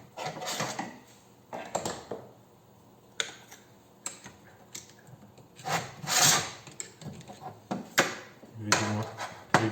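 Intermittent scraping strokes of a hand file rounding the edges of a clutch basket part from a Yamaha XJR 400 motorcycle, close by in short bursts separated by quiet pauses.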